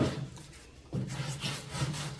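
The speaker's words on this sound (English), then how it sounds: "So I'm using 220 on a hard block. We're just gonna rub it, just do a quick little sand." Hand sanding of body filler on a cracked car grille trim with 220-grit paper wrapped around a hard block, a steady close rasping rub in back-and-forth strokes with a brief pause near the middle.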